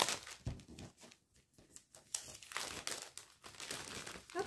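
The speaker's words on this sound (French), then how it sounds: "J'ai oublié de déballer ma toile" A painting canvas being unwrapped from its packaging, with loud close crinkling and crumpling of wrap and a few tearing rips in uneven bursts, no voices.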